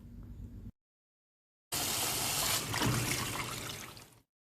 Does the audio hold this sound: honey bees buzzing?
no